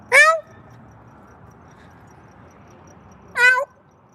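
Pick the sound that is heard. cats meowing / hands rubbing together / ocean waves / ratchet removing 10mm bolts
cats meowing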